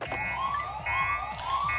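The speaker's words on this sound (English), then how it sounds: "An alarm?" A wailing alarm siren sounds in the video game Giga Wrecker, loud and steady, rising and falling in repeated sweeps over a low rumbling background.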